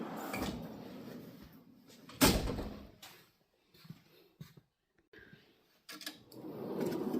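A metal toolbox drawer on a marine diesel mechanic's toolbox slides open and shut, with rolling slides, a sharp clunk, and a few softer knocks and rattles separated by quiet gaps.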